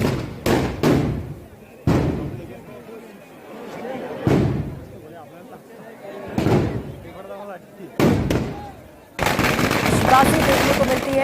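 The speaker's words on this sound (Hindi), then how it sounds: "इस दिन सभी ग्रामीण न सिर्फ पटाखे छोड़ते हैं बल्कि बंदूकों से भी कई हवाई फायर करते हैं।" Sharp gun blasts and firecracker bangs ring out during a village Holi celebration at Meena village, loud single cracks and short bursts spaced irregularly, with a reporter talking over and between them and a final dense crackling burst.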